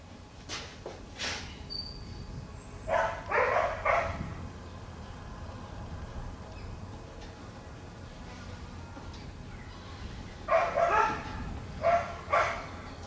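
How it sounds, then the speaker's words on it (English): Several dogs bark in short bursts outdoors, somewhat distant, with a couple of clustered volleys separated by a long stretch of quiet ambient rumble as a thunderstorm builds. "I don't know if you can hear my dogs out there"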